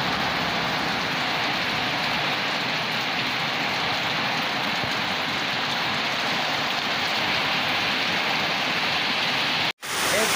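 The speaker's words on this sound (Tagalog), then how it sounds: "sobrang lakas ng ulan sa labas" Heavy rain pours outside in Pinamungajan during a low-pressure storm, a steady dense hiss of downpour that holds unbroken at full strength, with no talk, until a sudden cut near the end.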